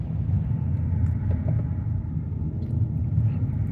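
Car moving through slow traffic, heard from inside: a steady low engine and road rumble, constant and moderately loud, with no distinct passing vehicles or voices.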